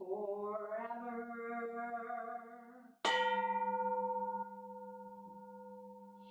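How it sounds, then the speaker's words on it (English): A Zen Buddhist temple bell is struck twice during a Sunday service, each strike ringing out with a bright metallic onset and long harmonic tones that hang and slowly decay, alone with no voices. "Here is the after sound of the bell."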